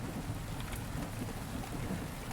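Heavy, steady rain pours down in the rainy setting of the game Rainswept, a dense continuous hiss with low rumbling underneath, loud and unbroken throughout.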